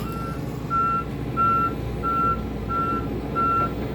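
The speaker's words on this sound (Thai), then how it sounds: "นี่ต้องเร่งสปีดเต็มที่เพราะว่ามวลน้ำมา รถขุดขนาด 20 ตันครึ่งนะครับ" Reversing beeps from a 20.5-ton Volvo excavator working near floodwater, six evenly spaced electronic tones over a low engine rumble, moderately loud, with no voices.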